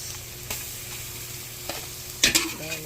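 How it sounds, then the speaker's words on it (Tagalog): Garlic sautéing in a pan for a mixed vegetable dish gives a faint, steady sizzle with a few scraping stirs and light utensil knocks near the end. "Gisa-gisa, gisain mabuti para masarap po at iwas panis."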